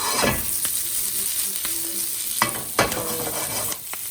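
Garlic cloves and peppers fry in hot oil with a loud, steady sizzle, broken by a few sharp scraping stirs near the end.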